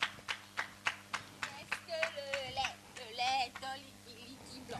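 Studio audience on a French Friday variety show claps in a burst of sharp, rhythmic hand claps, moderately loud, while a presenter's voice talks over the middle and end.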